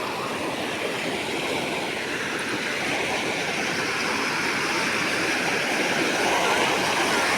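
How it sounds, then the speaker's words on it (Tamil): River water rushing over rocks, a steady broadband roar close to the microphone that holds evenly throughout with no talk. "தண்ணி சவுண்டு"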